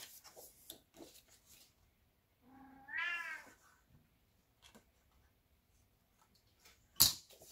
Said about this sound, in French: Alors, ça, c'est mon chat.